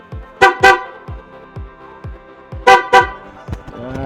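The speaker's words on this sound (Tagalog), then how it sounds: "Pag busina naman," A loud horn on a Suzuki Raider J Pro motorcycle gives two pairs of close, sharp honks with short gaps, over a faint rhythmic idle-like ticking.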